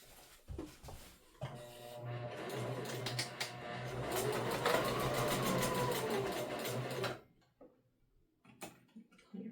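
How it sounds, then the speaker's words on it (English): A sewing machine back stitching fabric runs steadily for several seconds, close and moderately loud, then stops, followed by a few faint handling clicks. "And we are going to back stitch."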